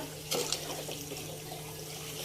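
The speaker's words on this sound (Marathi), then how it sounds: "आता आपण पाणी घ्यायचं." Tap water running into a cooking pot in a home kitchen, a steady faint rushing stream with a brief louder splash near the start.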